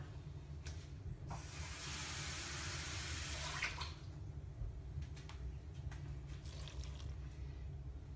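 Tap water runs in a steady broadband rush for a few seconds, measuring out a cup for a boxed cake mix in a home kitchen, then stops, leaving a low hum.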